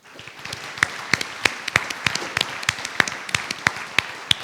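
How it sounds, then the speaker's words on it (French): An audience at a staged mock tribunal event claps as a witness is called to the stage, giving sparse, uneven individual claps at close to middling distance rather than a dense ovation, with no talking over them. "Vous pouvez l'applaudir."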